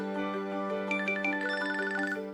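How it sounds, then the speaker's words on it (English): A Samsung Galaxy S26 phone plays its ringtone, a calm, simple melodic tune of soft tonal notes heard alone and close, steady throughout. "That's basically my ringtone right there."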